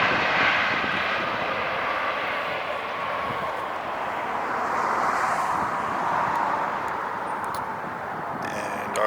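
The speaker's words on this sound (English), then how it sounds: "That is flight 787 A320-2 coming in from Toronto." An Air Canada A320 jet airliner from Toronto lands at LAX with a loud, sustained engine roar that swells and eases slightly, then stays broad and steady throughout, with no talk.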